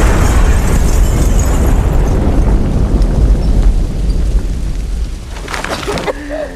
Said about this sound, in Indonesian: akibat ledakan tersebut, Bonus CS harus terlempar cukup jauh